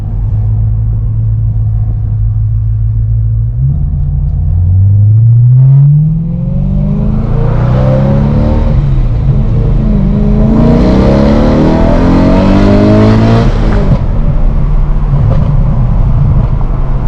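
BMW E92 M3 with muffler and resonators cut out, idling with a deep burble before several loud revs that climb, hold and drop back, raw and close.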